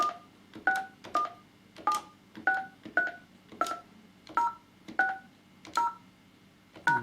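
Keypad dialing tones from a Yealink SIP-T38G IP phone in hands-free mode: about a dozen short, evenly spaced dual-tone beeps, each a clean key press, clear and close with no talking.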